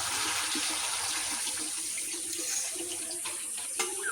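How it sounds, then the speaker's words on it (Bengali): Water pours into a pan of fish curry base with cooked-down tomato, a steady splashing flow that runs throughout at close range and stays fairly quiet. "এবার জল দেব,"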